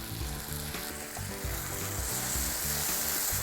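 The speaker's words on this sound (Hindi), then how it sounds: "इसे हमें पकाना है जब तक कि टमाटर अच्छे से भुन ना जाए।" Tomato chutney with chopped tomato, fresh tomato puree and spices frying in oil in a pan, a steady close sizzle with light stirring scrapes throughout, no talking.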